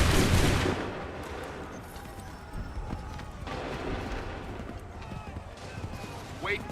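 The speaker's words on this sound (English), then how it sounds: "Open fire." A musket volley rings out in Assassin's Creed 3, a loud burst of massed gunfire at the start that fades into a busy outdoor din with scattered shots, shouting, and possible hoofbeats.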